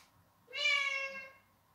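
A cat gives a single clear, drawn-out meow, fairly faint and heard alone against a quiet background.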